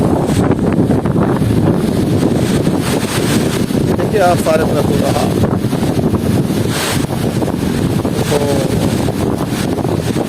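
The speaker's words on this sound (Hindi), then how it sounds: "बहुत ज़्यादा तेज़ हवा।" A strong, dusty wind roars through fruit trees, a loud, constant gusty rush that buffets the microphone while someone talks over it.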